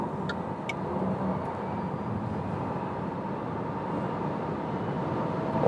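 A 2023 Renault Megane E-Tech electric car accelerates toward top speed on a German Autobahn, giving a steady, broad cabin roar of road and wind noise that builds slightly toward the end, with no talking.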